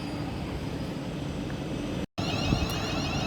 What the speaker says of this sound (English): And there that one departs whilst this one arrives.